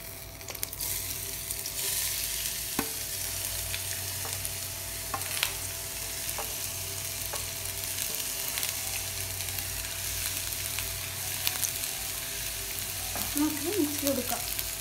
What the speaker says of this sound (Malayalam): റൈസ് ഗാർണിഷ് ചെയ്യാൻ വേണ്ടിയിട്ട് ഈ ഒനിയൻ ഒന്ന് ഫ്രൈ ആക്കി എടുക്കാം.